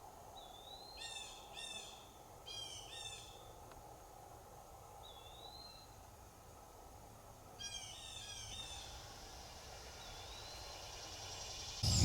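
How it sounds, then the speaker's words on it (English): Morning birdsong at Elk Neck State Park, Maryland: repeated bursts of trilled chirping alternate with single rising whistled calls, fairly faint over a soft, quiet outdoor background. "Birds already well into their day."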